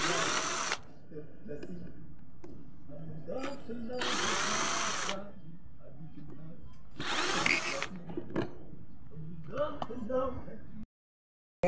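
A power drill backs screws out of an electric fan in repeated whirring bursts of a few seconds each, close and loud, with someone talking between and over them.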